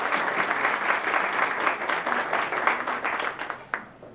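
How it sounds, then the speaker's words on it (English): Sustained applause fills a large room at a spring retreat, dense and steady handclapping from a seated audience that tapers slightly near the end with a few sharper individual claps standing out. "So let's give her one more round of applause"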